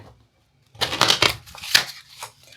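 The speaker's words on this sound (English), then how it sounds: "Let's shuffle one more time." Tarot cards are shuffled in a few close, crisp riffling bursts separated by short pauses.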